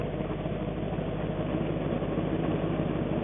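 A 1953 Chevy Bel Air rat rod with a Pontiac Chieftain head and three-speed suicide shifter idles steadily, a continuous low rumbling engine drone held close with no talking over it.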